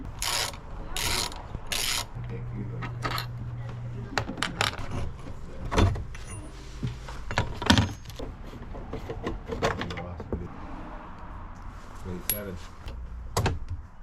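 A ratchet works bolts loose from the steering bracket of a 25-year-old Lund fishing boat, making irregular metallic clicks, clinks and rattling bursts at close range with short pauses between them.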